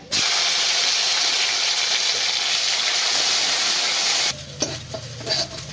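Spice paste of black cumin, ginger and cumin frying in mustard oil, a loud, steady sizzle for about four seconds before it drops away to a lower hiss with a few stirring knocks.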